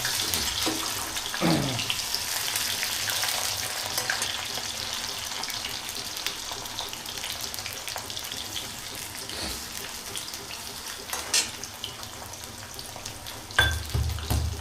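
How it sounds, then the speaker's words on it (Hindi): Jackfruit pieces fry in a pan in a village kitchen, a soft continuous sizzle and hiss with occasional clinks and knocks of stirring, fairly quiet and without talk. "जैसे जैसे फ्राई होता जा रहा है"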